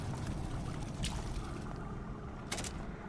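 Water flowing in Bioshock Infinite, a steady dense wash of rushing water that holds for the full stretch at moderate level, with brief brighter splashy bursts about a third of the way in and again near the end.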